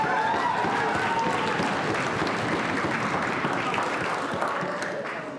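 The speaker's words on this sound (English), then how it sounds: "fry bread always gets a pretty loud applause" A banquet audience bursts into loud, sustained applause, dense clapping from a large indoor crowd that stays full then eases slightly at the end.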